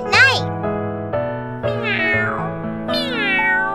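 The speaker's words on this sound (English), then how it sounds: "I'm so sorry, Kitty. I will never make you sleep at night" A cat meows several times in a row, with long, drawn-out pitch-bending cries, loud and close over a steady musical backing.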